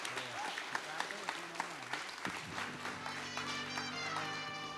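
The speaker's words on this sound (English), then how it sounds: "Start off by giving yourself an international round of applause." Audience applause at a film festival awards ceremony, scattered claps and taps rising under music and a voice, moderately loud throughout.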